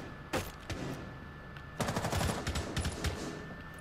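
Gunfire in a video game, a couple of sharp isolated shots early on, then a louder stretch of rapid overlapping bursts, heard from some distance against a constant background hum.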